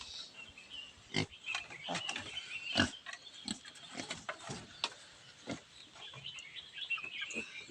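Short, irregular pig grunts at close range, scattered through steady farmyard background noise, with faint bird calls.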